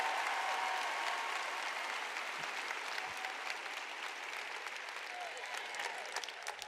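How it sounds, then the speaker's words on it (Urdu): Warm audience applause for a group of women leaving a stage, dense clapping that begins strong and gradually thins, with occasional distinct claps near the end. "ان کے لیے تالیاں."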